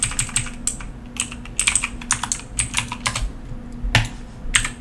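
Someone types on a computer keyboard while writing exploit code for a buffer overflow. Quick, uneven bursts of crisp keystrokes sound close up, with short pauses between the runs.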